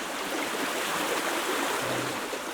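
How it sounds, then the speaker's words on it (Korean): A natural stream flows steadily outdoors, a close, broad rushing and burbling of water that stays even and continuous with no voices. "물소리만 들어도"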